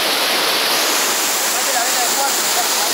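A stream rushes over slippery rocks in Patagonian terrain at Epuyén, a loud, close, continuous hiss of falling and churning water.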